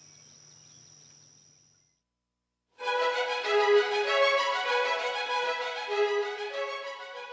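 A dense, steady buzzing drone of Brood X periodical cicadas starts abruptly after a moment of near silence and continues loudly, pulsing slightly.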